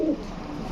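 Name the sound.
white pigeon cooing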